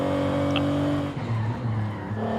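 A powerful car's engine drones steadily from the in-car view in the racing game Forza Horizon 5, loud and sustained, then shifts to rougher revving with what may be brief tire squeal.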